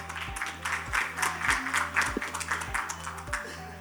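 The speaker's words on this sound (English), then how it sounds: "Can we have a huge round of applause?" A crowd at a real estate conclave applauds in a steady, moderately faint wash of clapping, with a low rhythmic background hum beneath it.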